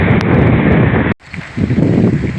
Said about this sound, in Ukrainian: Мене зносить вітром.